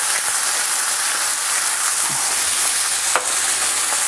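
Prosciutto-wrapped meat sizzles steadily in a hot frying pan, a close, even crackling hiss with a few sharper pops and spits throughout.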